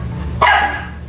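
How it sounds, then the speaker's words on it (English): A single sharp, loud bark from a dog close by, ringing out after a moment of quiet room tone. "Hey, we don't bark this early."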